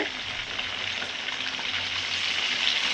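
Brinjal pieces frying in hot oil for kuzhambu, with a steady, loud, dense sizzle and crackle that continues without a break, with no talking.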